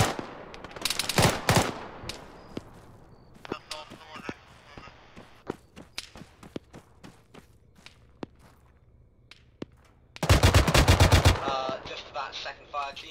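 DShK (Dushka) heavy machine gun firing in Arma 3, two loud sustained bursts of rapid fire, one early and a longer one near the end, between scattered single shots and footsteps during a multiplayer military session.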